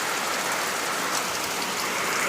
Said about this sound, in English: Just look at the rain one more time here in South Alabama.